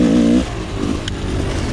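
A Rieju 300 enduro motorcycle's engine gives a short, buzzy harmonic rev that quickly drops back to a steady, rough idle rumble close by.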